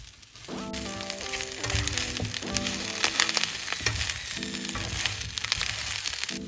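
Pan-seared salmon and garlic roasted potatoes sizzle hard while browning in a frying pan, with a dense, loud, close crackle that runs steadily throughout.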